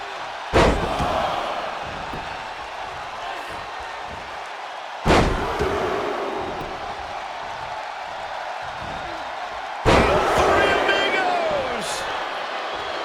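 Three heavy wrestling slams land at steady intervals in WWE 2K26, each a loud thud over a constant roaring arena crowd that swells briefly after every impact.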